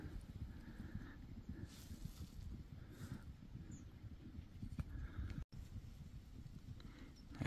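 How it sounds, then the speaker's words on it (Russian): A herd of horses at a May pasture shuffles along, with soft, irregular hoof thuds and clops on the ground under a constant low rumble of wind. "лошади пасутся круглосуточно."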